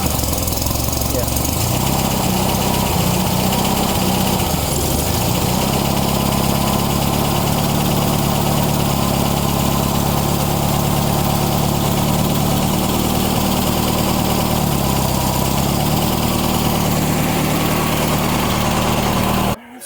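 A Volkswagen engine idles steadily after a new JBugs SVDA distributor has been fitted. The loud, continuous close-up running holds a brief dip in pitch early on and carries through to the end.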